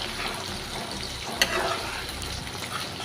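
Mango chutney is stirred in a pan after roasted garam masala is added, giving a quiet, steady sizzle with soft scraping and one brief sharp click partway through.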